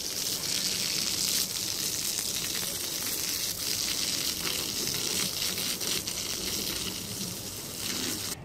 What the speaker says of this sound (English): Might as well blow the leaves off while I'm at it.